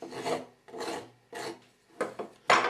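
Hand file rasping across a piece of wood while shaping it into a hexagon, five distinct strokes with short pauses between them, close and fairly loud with no talking.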